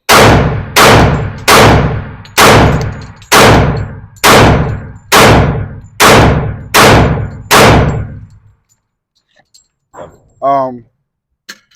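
A Glock 41 pistol fires about ten evenly spaced, sharp, loud shots with ringing decay, followed by a short pause and a brief voice.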